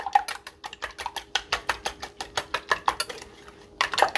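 Four eggs beaten in a bowl with a fork or whisk, a rapid rhythmic clicking of metal against the bowl in about twenty quick strokes, a brief pause, then more, close up and without talk.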